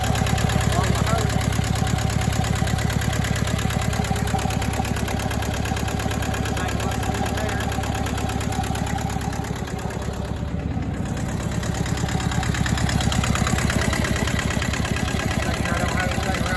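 A Massey Ferguson 205-4 tractor engine idles steadily close by, a continuous low rhythmic chugging with slight vibration that dips briefly midway before settling back to its even beat.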